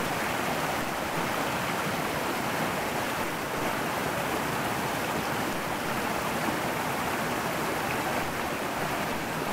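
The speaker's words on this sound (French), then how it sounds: "il faut que j'aille voir cette cascade, là," A waterfall and the stream it feeds rush with a constant, dense hiss of falling and flowing water, steady throughout with no voices.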